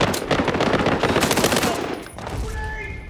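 Rapid, dense machine-gun fire rattles continuously in the World War 3 video game and fades after about two seconds into quieter battle ambience.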